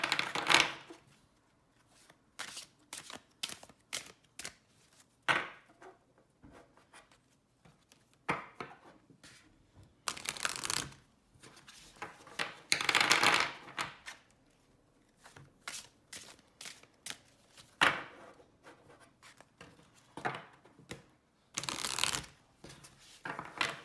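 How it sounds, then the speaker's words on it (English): A deck of oracle reading cards is shuffled by hand up close in repeated quick riffling and sliding bursts separated by short pauses, soft and crisp in a quiet room. "we're going to give these a shuffle"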